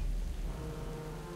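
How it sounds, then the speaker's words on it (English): Steady rain with a low storm rumble in the Jurassic Park Telltale game, a continuous wash of falling water at constant loudness with no voices. "This storm is only gonna get worse."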